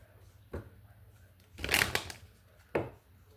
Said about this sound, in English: we're going to do 3 shuffles